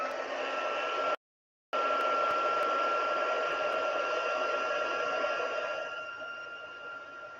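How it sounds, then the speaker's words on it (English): A crafting heat tool blows with a loud, steady whooshing hum that cuts out for a moment, then resumes and slowly fades slightly toward the end. "bear with me for a minute while my heat tool is on."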